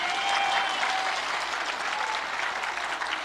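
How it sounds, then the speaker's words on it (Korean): A church congregation at a Friday night service claps in steady, dense applause that holds evenly for a few seconds, a full roomy wash of many hands. "박수 한번 해."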